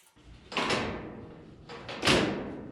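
A cabinet door on a Victory 3-burner propane gas grill is swung shut twice, each close a short hollow metallic knock with a brief rattle, loud and close, with no talking.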